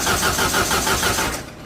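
Gasoline engine of a log-cutting saw starting, a short burst of rhythmic chugging pulses that quickly fades, loud and close.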